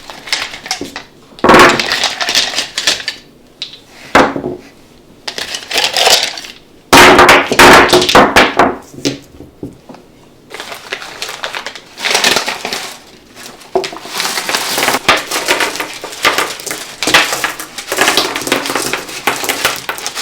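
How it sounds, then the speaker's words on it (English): Stones and shells are set down and scattered on a table covered with a white tablecloth, making repeated close clattering and crunching bursts with brief pauses between handfuls. "I want to put down some stones and some shells"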